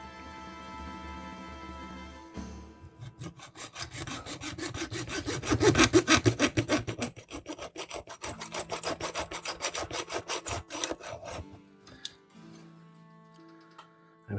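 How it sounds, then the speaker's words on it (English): A hand saw cuts through a small piece in a miter box for a scratch-built model engine: a quiet start, then rapid rhythmic back-and-forth rasping strokes that grow louder, then slow down and stop. "I can cut it somewhat straight with the miter box."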